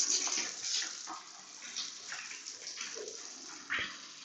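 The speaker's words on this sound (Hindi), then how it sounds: "इसके ऊपर पानी गिराएंगे और चेक करेंगे कि इसके अंदर पानी जाता है कि नहीं" Water splashes and runs continuously over a Studds Ninja Elite motorcycle helmet, a steady wash of pouring water with small surges, fairly close and with no talk.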